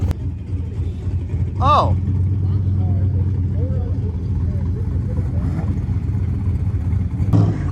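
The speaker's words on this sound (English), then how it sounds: "the Camaro had some issues in the middle of the burnout" A faulty Camaro doing a burnout at a race week event, its engine a steady rumbling roar at middle distance, with a short vocal exclamation and a brief whooping cry over it.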